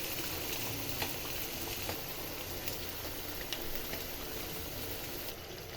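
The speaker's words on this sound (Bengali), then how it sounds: "ভেজে রাখা কই মাছগুলো আমি এতে দিয়ে দিই।" Fried koi fish in a pan of spice paste sizzle with a soft, steady crackle and patter, faint and even throughout with no talking.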